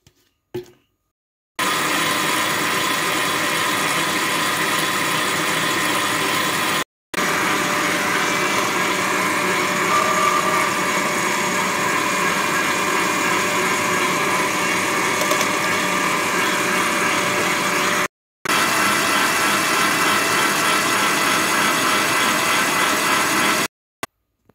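A stand mixer whips cold liquid cream into chantilly in its bowl, giving a steady, loud, continuous motor whir broken by a few short gaps.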